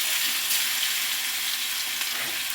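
Seerfish frying in oil on a flat tawa, giving a steady, loud, close hiss of sizzling that runs unbroken throughout, with no voices.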